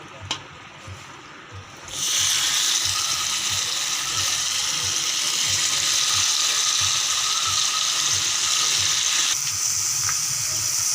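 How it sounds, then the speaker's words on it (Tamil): A loud, steady sizzling hiss bursts in after a couple of seconds and continues unbroken as fish fries in hot oil close by. "மீன் பொறிக்க போகிறேன்"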